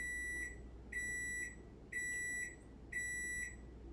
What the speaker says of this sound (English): once the timer goes off, we're going to turn the heat off and let it rest for 5 minutes